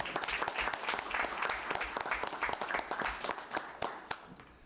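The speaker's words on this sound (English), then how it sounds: "Can we give a round of applause?" Audience at a city council meeting breaks into loud, sustained applause, dense clapping from many hands filling the room at a steady level throughout.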